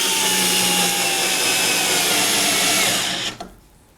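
A Milwaukee 2407 cordless drill in power mode 1 drives a screw with a loud, steady, high whirring motor hum for about three seconds, then cuts off abruptly into near silence.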